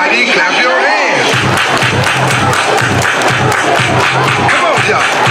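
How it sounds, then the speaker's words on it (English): A crowd at a school dance clapping hands together, loud and dense with shouts and cheering mixed in and music thumping underneath, continuous from start to finish. "Everybody clap your hands!"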